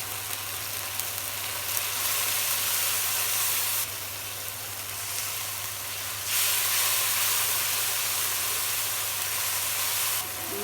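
Spice paste of green chilli, onion, coriander, cumin, turmeric and red chilli powder frying in a pan gives a steady close sizzle and hiss that swells louder in surges, with no talking.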